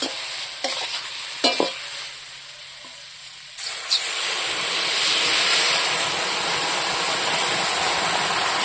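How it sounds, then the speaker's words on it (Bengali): Water poured into fried spice paste of cumin and onion for a fish curry with taro root, a soft broadband hiss that jumps into a loud, steady sizzle and steam roar after a few scattered clinks of stirring. "ঝোলের জন্য জল দেবো"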